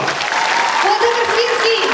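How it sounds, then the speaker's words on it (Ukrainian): A concert hall audience at a charity concert applauds steadily in a dense, loud wash of clapping that holds for two seconds and then cuts off, with a voice or tone faintly carrying beneath. "Оплески всьому залу!"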